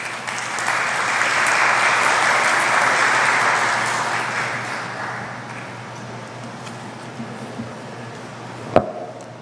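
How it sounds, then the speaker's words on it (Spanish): An audience at a congressional forum in Peru welcomes a speaker with sustained applause that builds to a full clap, then thins and tapers away, ending with a single sharp knock near the close. "Lo recibimos con fuertes palmas."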